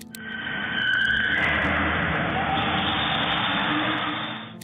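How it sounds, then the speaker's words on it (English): A car skids loudly and roughly for several seconds. The harsh scraping roar starts abruptly, holds at a steady level and then fades. It fits a car ramming into a shop during a robbery, and no voices are heard. "The car hits the shop,"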